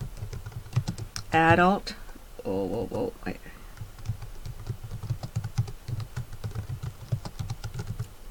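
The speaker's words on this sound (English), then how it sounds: "now press your tab key and you're going to type Winnipeg" Rapid clicking keystrokes on a computer keyboard run throughout, with a steady typing rhythm under intermittent spoken instructions.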